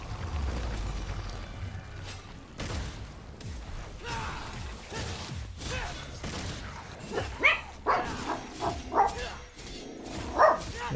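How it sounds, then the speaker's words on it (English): Several tiny dogs bark and yip in a rapid, uneven series indoors, sharp close yaps rising near the end over a low background of game audio. "Yeah, you can hear my dogs barking."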